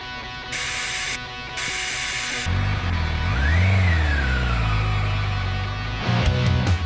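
A Honda Fireblade CBR sport motorcycle engine on a race track rises in a sharp rev and falls back, loud and near, after a few seconds of hissing noise bursts.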